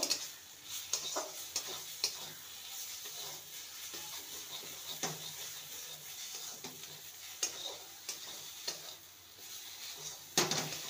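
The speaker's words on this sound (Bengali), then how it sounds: "এবার দিয়ে দেবো ধনেপাতা কুচি। ভালো করে নেড়ে নেব।" Lentil mixture with chopped coriander being stirred in a pan, giving soft repeated scraping and clicking strokes over a faint sizzle, close by with no talking.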